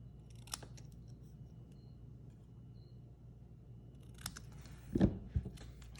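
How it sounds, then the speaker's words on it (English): Scissors snip an angled cut through paper in a quiet room, with a couple of faint soft clips early on and a louder crisp cut followed by a short rustle near the end. "just a real quick and easy angle cut on this"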